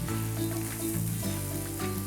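Chopped onions, garlic and ginger fry with cumin seeds in a pan for tawa pulav, giving a steady close sizzle with faint stirring, no voices.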